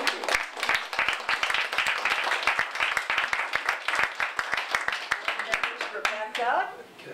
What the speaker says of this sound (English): I would like to have a round of applause for the Sitka Maritime Heritage Society